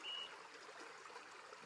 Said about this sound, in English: came down to the river here